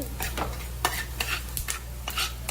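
Food roasting in a little oil in a pan, a soft broadband sizzle with repeated scraping stirs every half second or so, close and steady over a low constant hum, no voices.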